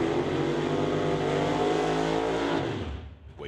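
A 1927 Ford Model T Roadster drag car at an NHRA Summit ET Series race in Chilliwack roars loudly at full throttle for about three seconds, its engine rising in pitch before cutting off abruptly.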